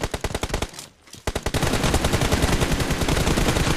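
Rapid automatic gunfire in the mobile game PUBG Mobile comes as loud, close bursts. A brief pause around one second breaks the shots, then a dense sustained volley follows.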